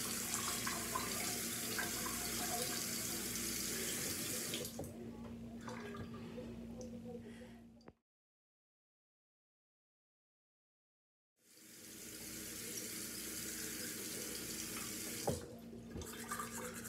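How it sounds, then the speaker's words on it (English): A tap runs into a sink as a toothbrush is wetted, giving a steady close rush of water that stops abruptly for a few seconds before flowing again with occasional splashes. "Let's turn on the water so we can wear that toothbrush."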